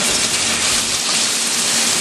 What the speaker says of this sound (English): You can hear that sizzling means that it's doing really well.